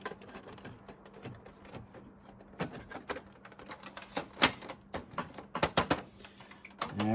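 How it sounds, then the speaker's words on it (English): Plastic front panel of a Dell Dimension 4600 computer case being refitted, with a run of sharp clicks, snaps and taps that grow busier toward the end, close by and with no talking. "Now, what I want to do now is I will reinstall the front of this case."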